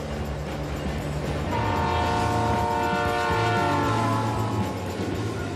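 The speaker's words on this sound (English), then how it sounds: "the Royal Canadian Pacific is about to pass right by" Royal Canadian Pacific passenger train passing close by on a Rocky Mountain main line, its horn sounding a loud sustained chord over the steady low rumble of the cars rolling past.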